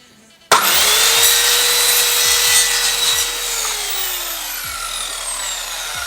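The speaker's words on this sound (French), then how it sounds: "Ensuite, je fais une découpe dans mon super bel établi." Power tool cutting into wood paneling on a workbench in a van, a loud close whine that starts suddenly, cuts steadily for several seconds and then eases slightly as the cut continues.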